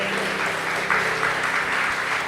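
A church congregation applauds steadily at worship, a dense wash of clapping held at even loudness throughout.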